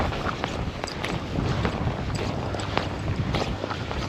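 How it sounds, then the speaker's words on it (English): Strong wind buffets the microphone beside a hill loch in the Galloway Hills, a loud continuous roar with gusty rumbling and no talk. "I've plenty of wind."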